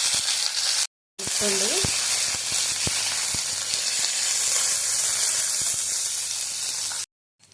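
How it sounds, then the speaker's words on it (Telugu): Curry leaves dropped into hot tempering oil flare into a loud, close, crackling sizzle that carries on steadily, broken by two short silences, while a voice speaks briefly. "ఇప్పుడు కరివేపాకు వేసుకుందాం."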